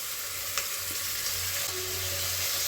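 Tomatoes fry with onions in a pan for bisi bele bath, a steady, dense close-up sizzle with a few soft stirring taps and scrapes underneath.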